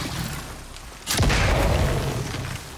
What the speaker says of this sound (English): I was a little bit nervous about using those explosives so close to us